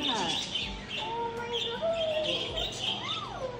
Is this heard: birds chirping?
yes